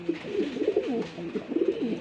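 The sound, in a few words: pigeons cooing at a pigeon farm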